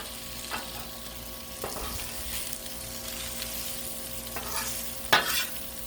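Cabbage and smoked sausage being stirred in a hot frying pan, with a steady sizzle and a few scraping stir strokes across the six seconds, loudest near the end.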